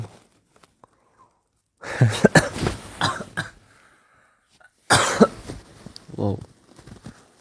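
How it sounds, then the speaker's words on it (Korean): Two bursts of close, rough coughing, the first a run of several hacking coughs and the second shorter, separated by a quiet pause. "기침 나오네."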